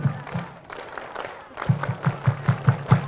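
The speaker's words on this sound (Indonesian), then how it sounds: "Tepuk Pramuka." An audience at a large religious gathering performs the Scout clapping routine (Tepuk Pramuka), starting with scattered claps and settling into loud, evenly spaced unison claps in a rhythmic pattern.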